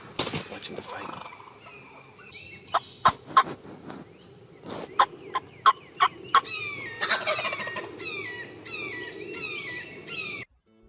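Osceola wild turkeys gobble in loud, sharp bursts and scuffle while fighting, with hens calling and clucking nearby in a rapid flurry toward the end.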